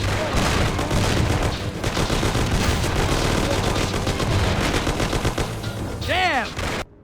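Dense bursts of automatic and single-shot gunfire crackle through a shootout in the game Mafia: The City of Lost Heaven, loud and sustained for several seconds, with a shouted voice briefly over the din and a ricocheting whine near the end.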